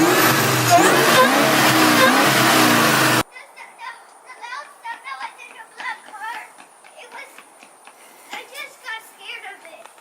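A 2003 Ford Mustang Cobra with an aftermarket exhaust modification revs loud and close for about three seconds, then cuts off abruptly, leaving people talking and moving around nearby.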